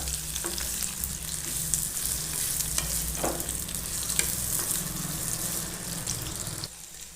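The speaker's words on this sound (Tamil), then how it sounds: "இதை நல்லா கலந்து விட்டுக்கலாம்." Food sizzles in a hot pan while a utensil scrapes and stirs through it in a steady, close rhythm, with a few sharper clinks.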